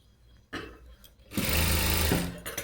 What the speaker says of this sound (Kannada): ಲಾಸ್ಟ್ ಎಡ್ಜಲ್ಲಿ ಸ್ಟಿಚ್ ಹಾಕೊಂಡು ಬರೋಣ